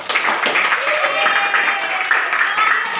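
Classmates clap for group two after a presentation on ASEAN space and interaction, a dense steady round of clapping lasting the whole moment, with a voice faintly audible beneath.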